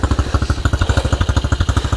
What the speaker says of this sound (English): that's my bike started up, and I'll just leave it to warm up like that